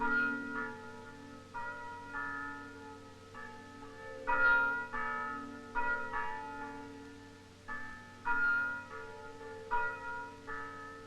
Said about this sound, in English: the Sunday sound of bells is as much a part of life for all Lebanese